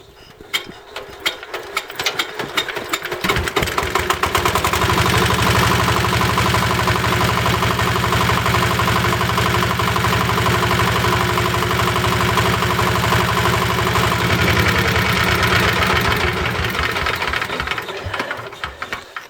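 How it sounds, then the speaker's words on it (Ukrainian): A Scout T-15 walk-behind tractor engine is cranked by hand and catches, settling into a loud, steady mechanical chugging with rattling for most of the stretch before fading slightly near the end, with no talk. "Ну, зараз попробуємо як він заведеться."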